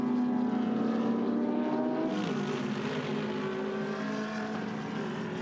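Roaring engines of GT Cup race cars at the start of a race final, a loud droning whine with a pitch drop as cars sweep past, then sustained layered engine noise.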